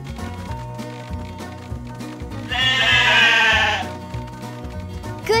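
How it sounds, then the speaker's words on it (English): A cartoon sheep bleats once, a bright wavering cry of about a second, in the Paw Patrol Academy video game, rising over bouncy background game music. "Let's bring these sheep over to me."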